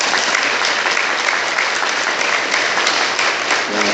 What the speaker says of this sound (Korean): 우리 감사와 또 기쁨의 박수를 함께 치도록 해볼까요?